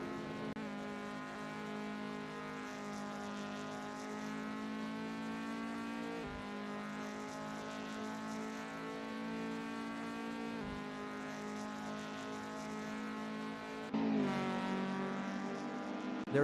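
A race car engine drones steadily at high revs during an out lap in a racing sim game, warming tires, alone and fairly even with a brief gear change and a louder surge near the end.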